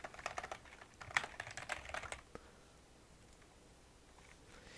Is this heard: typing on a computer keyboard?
yes